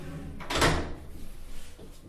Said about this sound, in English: To lock the door, turn the handle upwards.